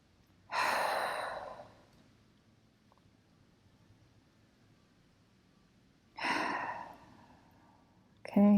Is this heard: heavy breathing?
yes